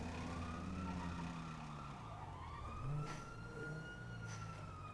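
A police car siren in the video game GTA V wails in long rising and falling sweeps over a constant engine drone, loud and close, with no talk.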